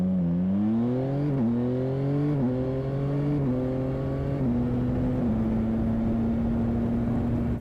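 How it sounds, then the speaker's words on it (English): Yamaha Tracer 9 GT three-cylinder engine pulling hard through quick-shifter gear changes, the loud rising drone dropping sharply at each of several clean upshifts before settling into a steady cruise. "it is quite cool when you are changing gears using a quick shifter"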